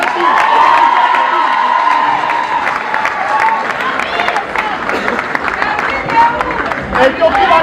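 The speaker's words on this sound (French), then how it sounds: "on applaudit pour le 9 Régis" Crowd cheering and applause at a Cameroonian diaspora fair in Europe greet footballer Samuel Eto'o, loud and sustained with whoops and shouts, fading into busy crowd chatter with voices talking throughout.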